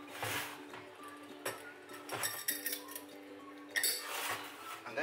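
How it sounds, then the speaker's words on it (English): Lids are fitted and pressed onto containers of dehydrated citrus fruit, giving a quiet series of irregular clicks, clinks and knocks close by. "just put the lids on, seal them up as best you can"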